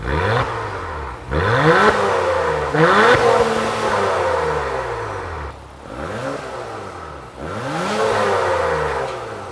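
An Acura TLX Type S sports sedan revs repeatedly, its exhaust note rising and falling in loud, close surges with gear-like sweeps between them.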